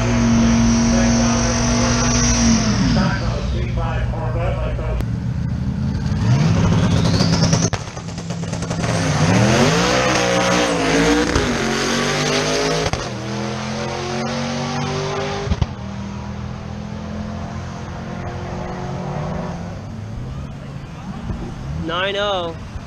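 A modified 2-valve Ford Mustang engine screams as it accelerates hard at a drag strip, revs climbing and dropping with each gear shift, loud and close, with voices talking over it.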